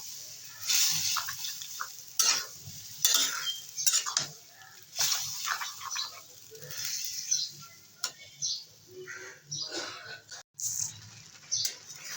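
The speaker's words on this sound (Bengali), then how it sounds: "এবারে শাকটাকে নেড়ে চাড়িয়ে শুকিয়ে নেব" Jute greens are stirred and dried in a pan with dal, producing irregular scraping, clinking and soft crackling bursts separated by short pauses, close and moderately loud with no talking.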